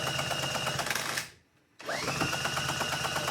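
On a Honda 185S police motorcycle, the electric starter whirs in a steady, buzzing crank, cuts out for about half a second, then whines back up and keeps turning, close and loud with no speech.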